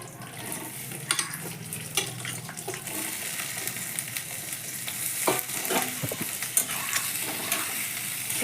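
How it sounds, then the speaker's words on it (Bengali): Onions frying in hot oil over a high flame, a continuous close crackle and hiss with scattered pops and occasional stirring clatter, no voices. "পেঁয়াজটাকে এবার আমি হাই ফ্লেমে সুন্দর করে ভেজে নেব"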